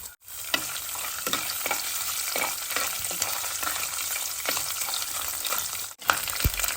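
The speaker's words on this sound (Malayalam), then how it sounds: "ഇനി എണ്ണ ചൂടായി കഴിയുമ്പോൾ ഒരു 2 കഷ്ണം തേങ്ങാക്കൊത്ത് ചെറിയ പീസാക്കി നമുക്ക് ഇട്ട് കൊടുക്കാം." Small pieces of coconut fry in hot oil for a mushroom roast, a dense, continuous sizzle broken by regular scraping strokes of a stirring spoon, close and moderately loud, with no voices.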